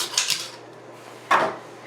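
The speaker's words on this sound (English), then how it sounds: "I'm going to stick a strainer at the bottom of it" A metal strainer is set down into a pot of boiling water on the stove, giving two brief clanks a moment apart, close and fairly loud, with no talking.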